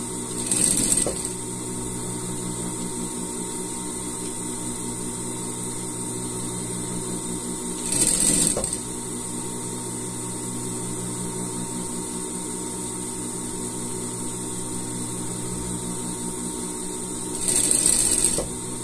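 A sewing machine runs steadily while stitching a gaucho-style pet outfit, with a low mechanical hum throughout and three brief louder bursts spaced several seconds apart.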